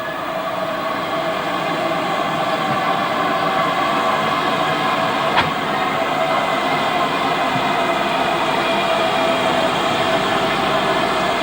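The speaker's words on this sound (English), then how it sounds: "After taking water, 4277 runs back to join the coaching stock standing in the platform." Steam locomotive 4277 on the North Yorkshire moors railway running back to join coaching stock at a platform, a loud steady rumble of rolling wheels and machinery with a single brief clank midway.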